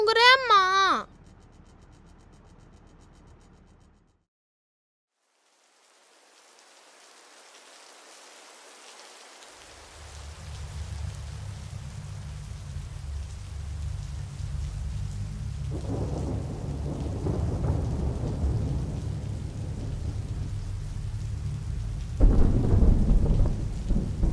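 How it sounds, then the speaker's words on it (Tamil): A thunderstorm builds after a short voice and a few seconds of near silence: steady rain sets in, and low rolling thunder swells twice and grows louder toward the end. "இடிலாம் அடிக்குது"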